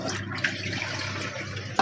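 Tap water runs steadily while freshly cut fish are washed in a home kitchen, a close, continuous splashing flow.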